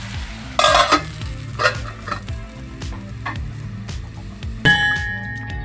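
Tomatoes and dried fish for karuvadu thokku sizzle in a pan over low heat, with a spatula stirring and scraping in a steady repeating rhythm close by, plus a few sharper clinks and no voices.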